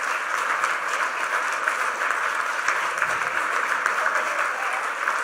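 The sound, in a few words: audience applause for guests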